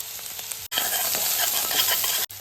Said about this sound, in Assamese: মটৰখিনি ধুনীয়াকৈ ফ্ৰাই হৈছে আৰু এতিয়া মই আদা নহৰুখিনি দি দিম